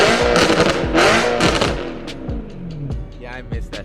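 A loud car engine at a BMW car meet revs hard in repeated sharp bursts with popping exhaust crackles between throttle blips, close by and dominating the scene.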